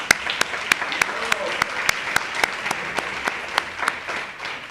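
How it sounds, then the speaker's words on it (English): Audience applauds a singer, a steady burst of clapping with sharp individual claps standing out over a dense wash of hands, fairly close and continuous throughout. "I want us to give our singer another round of applause."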